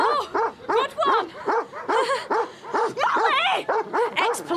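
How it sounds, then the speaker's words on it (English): A former police dog barks in a rapid, loud series of close yaps and woofs, with a few whimpering yips and brief voices mixed in. "Ex-police dog, apparently."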